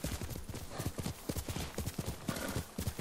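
Horse hooves clip-clopping at a steady trot while riding in the Ghost of Tsushima video game, a quick continuous rhythm of close hoofbeats with a faint voice in the background.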